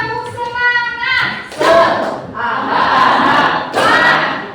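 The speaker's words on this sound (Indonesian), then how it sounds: "Coba kita praktekkan tepuk semangat." A school class performs the rhythmic 'tepuk semangat' clap chant, children shouting syllables together with sharp, loud group claps punctuating the chant in a close, lively classroom.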